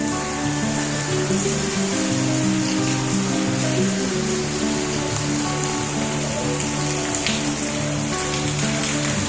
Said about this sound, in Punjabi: ਫੇਰ ਮੀਨੇ ਰਫਤਾਰ ਫੜੀ